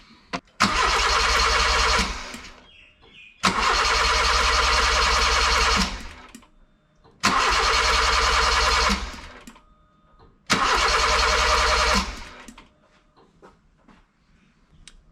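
A Honda Civic EK's D16 engine cranks over on the starter during a compression test with a spark plug removed, four separate cranking bursts of about two seconds each, loud and close, with short quiet gaps between them.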